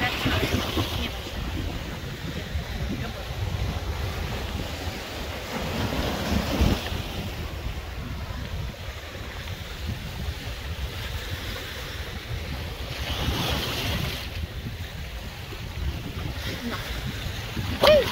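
Waves roll onto a Black Sea beach in Romania as steady wind buffets the microphone, a continuous broadband roar with a couple of louder surges, no voices heard.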